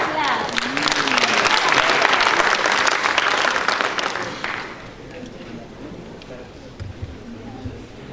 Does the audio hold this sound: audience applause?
yes